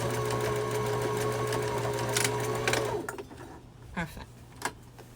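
A sewing machine back stitches across a fabric book and eReader cover. Its steady, close motor whir runs for about three seconds, then stops, leaving a few faint clicks and handling sounds.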